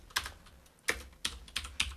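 Crisp, well-spaced keystrokes on a computer keyboard while writing Swift code, five or six distinct clacks at an uneven pace, close up and alone.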